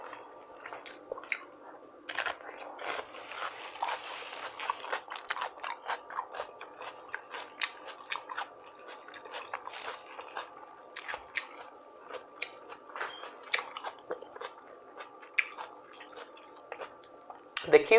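Rotisserie chicken and cucumber being chewed up close, with repeated soft wet bites and crunchy, squishy mastication noises in an uneven rhythm, a faint voice briefly audible near the end.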